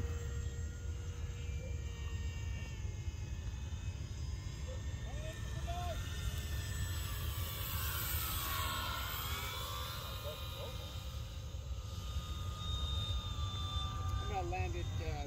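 A Dynam BF-109 V2 radio-controlled model warbird with a 1270 mm wingspan flies at a distance, its faint whining drone rising and falling over a low rumble of wind, with people talking.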